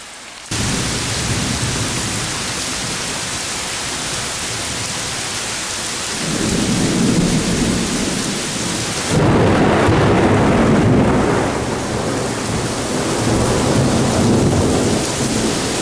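Heavy rain pours steadily in the Brazilian rainforest, with deep rumbles of thunder swelling in the middle and a loud, close downpour toward the end.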